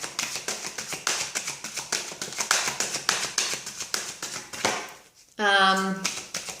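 Tarot cards being drawn and shuffled, heard as a rapid, steady run of crisp flicking taps close by, followed by a brief pause and then a sustained sliding riffle.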